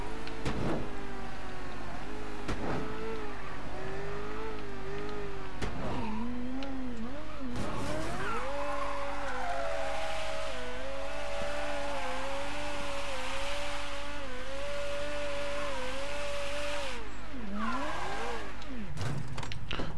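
A car in Mafia 3 holds a sustained high-speed run down a highway, its engine whining steadily with shifting pitch and occasional revs and gear changes, loud and continuous without any talk.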